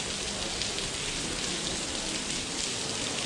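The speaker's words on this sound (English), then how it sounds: "The rain is really coming down now." Heavy rain pours steadily on a street in Salerno, Italy, a dense, even hiss of drops on hard surfaces that stays loud and unbroken throughout, with no talking.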